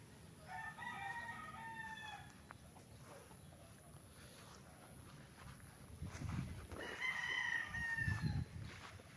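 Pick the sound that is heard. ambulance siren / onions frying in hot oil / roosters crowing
roosters crowing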